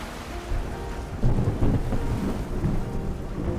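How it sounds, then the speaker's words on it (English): Storm at sea in a video game: heavy rain hisses steadily while low rolling thunder swells and rumbles, with waves churning beneath, loud and close throughout with no voices. "the sea is terrifying during a storm"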